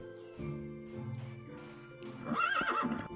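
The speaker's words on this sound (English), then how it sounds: "Man, these horses are really loud." A Minecraft horse whinnies loudly and close by, a drawn-out neigh that rises into a shrill peak near the end, with no talking.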